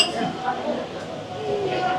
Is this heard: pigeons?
no